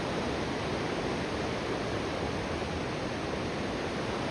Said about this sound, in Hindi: एक अजीब सा सुकून और ये ठाठे मारता हुआ पानी और इसकी रवानगी